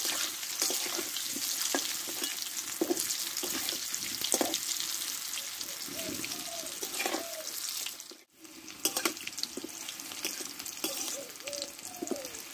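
Potato pieces, lightly parboiled, fry in hot oil for alur dom, giving a steady crackling sizzle with occasional stirring scrapes and a brief pause partway through.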